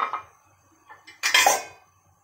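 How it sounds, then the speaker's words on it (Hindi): Metal idli steamer plates being greased with oil for rava idli, a few light metallic clinks and scrapes, then a louder clattering knock of plates near the end, close by with no speech. "पहले हम इडली बर्तन में तेल लगा लेते हैं"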